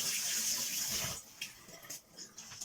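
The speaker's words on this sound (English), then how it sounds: "Give my hands a little wash again." Running tap water pours steadily at a sink as hands are washed during cookie baking, loud and continuous for about a second before thinning into softer splashes and drips.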